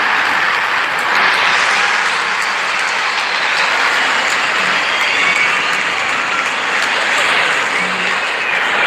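A large cricket crowd at a T20 international between England and South Africa keeps up a steady, dense roar of cheering and applause as the openers walk out, loud and continuous with no talk.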